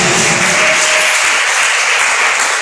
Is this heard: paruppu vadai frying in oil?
no